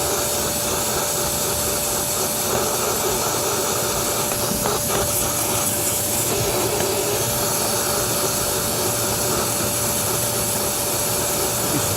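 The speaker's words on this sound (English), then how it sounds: "Besides using your regular vacuum, which I'm going to try right here" A regular household vacuum cleaner runs steadily on car carpet matted with dog hair, a loud continuous whine and roar with a fixed tone and no speech throughout.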